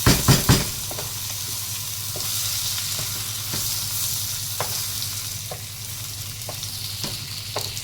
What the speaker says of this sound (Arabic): تفضلي تقلبيه شوية كده